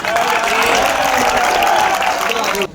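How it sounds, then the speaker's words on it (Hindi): Students applaud together at a Punjab college gathering, a dense wash of clapping mixed with crowd voices that holds steady, then cuts off abruptly near the end. "के लिए तालियां होनी चाहिए"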